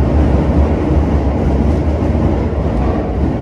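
A Toei Subway 1300 train runs on the Keio main line after leaving Chofu station, heard from inside as a loud, continuous low rumble and roar of wheels and motors with faint rail clatter.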